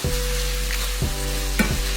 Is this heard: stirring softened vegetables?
yes